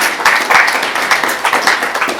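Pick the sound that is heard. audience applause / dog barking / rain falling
audience applause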